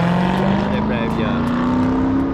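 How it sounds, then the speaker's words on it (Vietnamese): A loud, steady engine drones close by at an outdoor taco restaurant, its pitch creeping slowly upward, while people talk over it. "Tiếng máy nổ quá."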